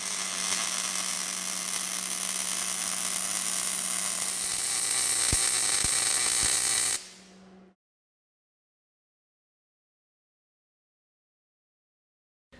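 A MIG welder runs one straight weld bead, giving a loud, steady, close crackling hiss for about seven seconds that cuts off abruptly into silence.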